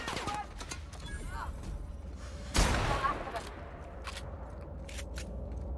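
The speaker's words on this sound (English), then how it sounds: "I fire my sniper rifle" A sniper rifle fires in the video game The Outer Worlds with one sharp, loud shot midway, standing out from quieter game sounds and scattered clicks, while a voice talks earlier on.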